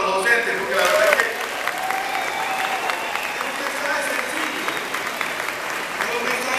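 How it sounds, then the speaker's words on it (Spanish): Audience applause at a school graduation ceremony, a steady wash of clapping from a crowd that holds through the whole stretch, with voices audible underneath. "tengo un fuerte aplauso para los docentes"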